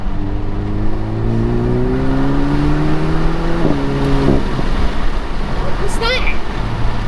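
A Renault Megane RS Mk4 with an EDC gearbox and a Forge Motorsport smart valve spacer revs loudly close by, its engine note climbing steadily for several seconds before dropping off, followed by brief sharp chirps and a person talking over the engine.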